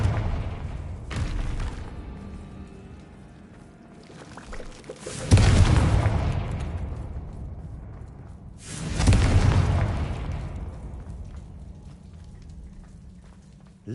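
Confringo blasting spell explosions in the video game Hogwarts Legacy, three loud booming blasts a few seconds apart, each decaying into a long rumbling tail.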